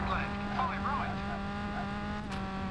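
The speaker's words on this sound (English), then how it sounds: "Oh, I hear the brakes are squeaking." A steady car engine drone with high, wavering squeals rising and falling over it from squeaking brakes in the V-Rally 3 game on Xbox, close and fairly constant.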